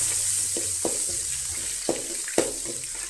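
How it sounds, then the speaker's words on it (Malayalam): Chopped onion fries in oil in a pan for upma, making a steady close sizzle with a few soft scrapes and taps from stirring. "അത് കഴിഞ്ഞിട്ട് നമ്മൾ ഈ അരിഞ്ഞു വെച്ചിരിക്കുന്ന ഉള്ളി ഇട്ട് കൊടുക്കുക."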